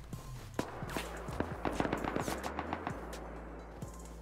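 Rapid bursts of LR and AK rifle gunfire in the survival game Rust, sharp distant cracks in quick strings over a low ambient hum, with some footstep-like thuds.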